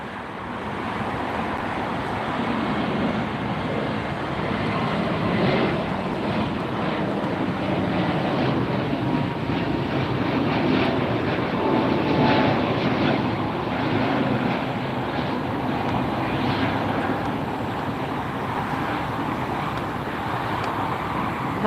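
A Cathay Pacific airliner lands at LAX, a steady broad roar of jet engines and rushing air that holds loud and even throughout, with wind buffeting the microphone.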